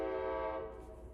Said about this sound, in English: I'm just letting the train pass through. He's got 2 more horns.